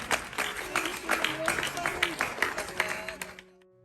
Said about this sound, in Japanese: 日本はヨーロッパの国々と同じくらい大切に思っている国ですというデュポンさんの言葉に拍手が沸きました。